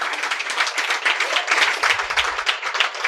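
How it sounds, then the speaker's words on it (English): An audience at a stand-up comedy show claps and applauds steadily and loudly, a dense, continuous wash of hand claps filling the whole stretch without a break. "You got to clap it up for yourselves for coming all the way out here"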